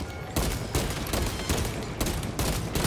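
Rapid pistol gunfire from Warhammer 40,000: Space Marine 2, a loud, dense run of shots in several bursts that fills the whole stretch with little pause.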